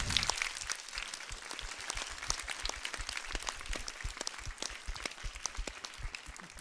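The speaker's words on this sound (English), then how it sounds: "Give them a big round of applause," A crowd gives sustained applause for students at a space station crew event, many hands clapping in a busy, steady wash that holds level without speech.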